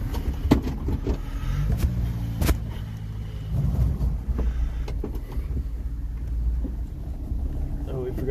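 A Subaru Sambar KS4 kei truck rolls over gravel in four-wheel drive, its engine humming steadily under crunching tires and wind buffeting the microphone, with a person talking throughout.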